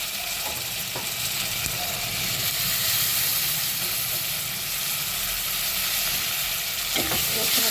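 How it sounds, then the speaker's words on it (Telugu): Chopped tomatoes hit a pan of sizzling turmeric, ginger and garlic paste, a steady loud frying hiss with occasional stirring scrapes throughout. "పసుపు, అల్లం వెల్లిగడ్డ పేస్ట్ వేగిపోయింది కదా, ఇప్పుడు ఇందులో కొన్ని టమాటాలు వేసుకుందాం."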